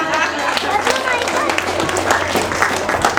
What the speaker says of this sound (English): It's that sound right there, the sound of the applause.